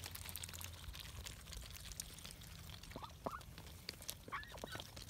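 Hungry ducks crowd in at feeding time, their short rising quacks popping up a few times over a steady, busy outdoor wash at moderate distance, with no talk.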